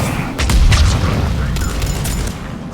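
Gunfire and explosions from the video game Mass Effect 3 during a rescue on Sur'Kesh, with a heavy boom and rumbling blasts, dense, loud and close, and crackling shots behind them.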